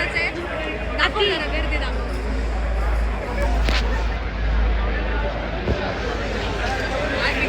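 Steady crowd hubbub in the packed waiting area of Hotel Jagdamba, a two-floor thali restaurant near Pune, many voices overlapping nearby with occasional clinks and louder close talk over a low hum.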